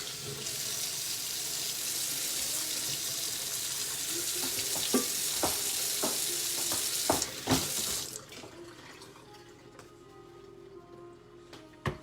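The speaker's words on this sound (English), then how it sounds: "So we're definitely going to scrub the sink." Kitchen sink scrubbed under a running tap: a steady loud rush of water with scattered knocks and scrapes, then the flow stops and quieter clatter follows.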